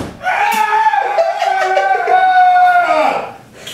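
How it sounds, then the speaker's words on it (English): A person lets out a loud, sustained scream lasting around three seconds, close to the microphone, with a strained, wavering pitch before it cuts off. "I'm not screaming into a pillow this time"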